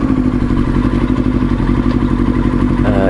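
A motorcycle engine idles while standing still in still air and overheating, giving a loud, steady, continuous rumble with a slight clattering texture throughout.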